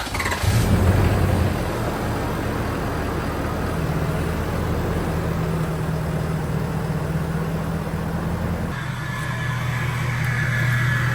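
Ford F-250 truck, tuned to 700 horsepower, driving along: a steady low engine drone and road rumble, close and continuous, with a slight surge near the start and a shift in tone near the end.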